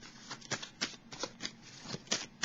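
Tarot cards are shuffled and laid down close by, a quick run of soft papery riffles and flicks in an irregular rhythm, faint and with no talk.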